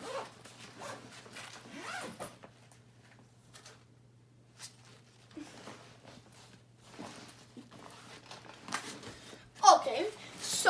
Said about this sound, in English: And now I'm going to zip that up.